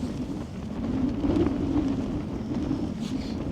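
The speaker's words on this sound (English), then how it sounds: "Wind's picked up." Steady wind blowing around a tent at night, a continuous low rushing roar that swells slightly midway and keeps a constant buffeting texture, with no voices.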